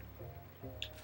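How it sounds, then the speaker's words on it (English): Forest water trickles into a bottle in Zelda: The Wind Waker HD, a short liquid squish and drip lasting about a second, faint and close, ending with a brighter splashy burst. "now let's put some forest water in a bottle"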